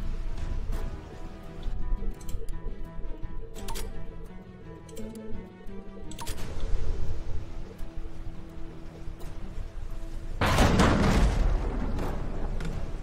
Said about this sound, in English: One of those cannons just completely and utterly missed